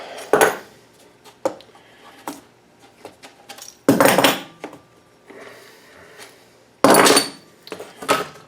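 A CNC-cut metal nameplate piece for a Tonka truck chase bar is released from a clamp: sharp metallic clanks and knocks at irregular intervals, with a few louder bangs among quieter handling rattles, close by and without talk.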